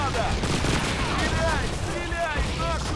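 Gunfire from the video game Call of Duty 2 at the Stalingrad fortress, dense, continuous bursts of battle shooting and blasts filling the whole stretch, with voices heard among the noise.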